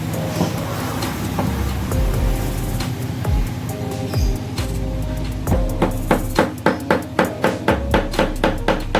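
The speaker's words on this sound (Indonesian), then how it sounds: "tempelkan pada balok kayu menggunakan paku" A hammer drives a nail into a wooden block during a physics practical on centre of gravity; a steady run of sharp, close, evenly spaced blows builds in the second half, about a dozen strikes over a faint background.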